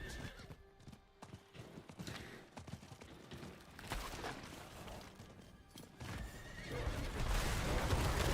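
Horse hooves clip-clop in a rapid rhythm from the video game Last Epoch, with whinnies and neighs breaking in, alongside crunching game effects and impacts that swell louder toward the end.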